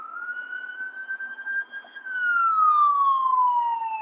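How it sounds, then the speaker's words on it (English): An ambulance siren wails loudly and steadily close by, its tone gliding up and then sweeping down, with no talking over it. "Even that ambulance siren kind of makes me a little, you know, makes me feel a little certain way."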